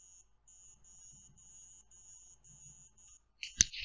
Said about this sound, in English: The alarm clock is very annoying, apparently.